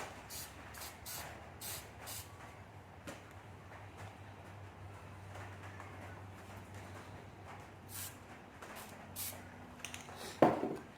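Short bursts of spray paint hiss repeatedly in a quiet room while painting an insect pinning tray, several quick puffs in a row, with a soft clatter near the end.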